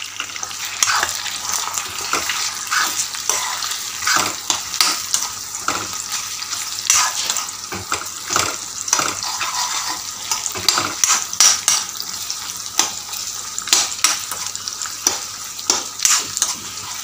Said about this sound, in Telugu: నాలుగు గుడ్లు వేసుకొని కొంచెం లైట్గా కలుపుకొని వదిలేయాలి